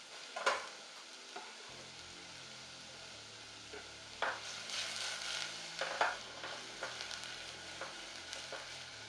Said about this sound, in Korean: 다진 양파 4분의 1개를 넣고 식용유에 잘 볶아줍니다.